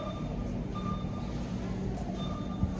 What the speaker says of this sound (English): lots of beeping going on around me.